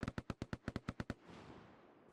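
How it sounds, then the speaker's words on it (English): Gunfire in the World War Two shooter Hell Let Loose: a rapid burst of about ten evenly spaced automatic shots, sharp and loud, then a fading echoing tail. "I hear gunfire."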